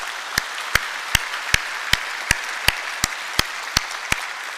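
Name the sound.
church congregation applauding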